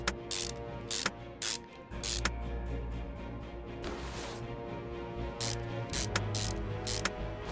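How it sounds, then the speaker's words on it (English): Rapid ratchet clicks from tightening clutch bolts in the Car Mechanic Simulator 2021 game, repeated bursts of sharp mechanical ratcheting spread across the clip over a steady background hum. "Then we tighten up those bolts."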